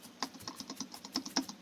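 Computer keyboard keys pressed in a quick, irregular run of light clicks and taps, about a dozen strokes close up and fairly quiet, with no voices.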